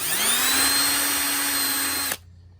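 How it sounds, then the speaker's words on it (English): A power drill with a self-centering bit whines steadily at high speed for about two seconds while drilling a door striker plate hole, then cuts off abruptly, leaving near silence. "and drill my other hole"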